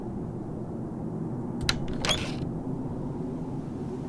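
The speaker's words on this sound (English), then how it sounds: "so that is the door, and uh, let's open it" In the Game Guru video game editor, a door creaks open with a short pair of scraping creaks. The sound rises briefly over a steady low hum, near and moderately loud, and nobody speaks.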